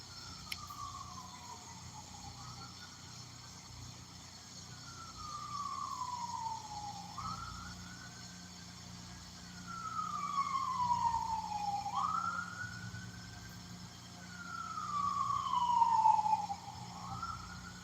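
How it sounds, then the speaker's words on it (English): A distant ambulance siren wails, sweeping up and down in long repeated cycles over a faint outdoor hum by a creek, growing slightly louder toward the end. "It sounds like an ambulance."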